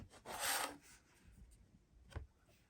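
Blade slicing through quilting fabric on a cutting mat, a soft rasping drag of about half a second followed later by a brief second scrape, fairly faint and close with no talk.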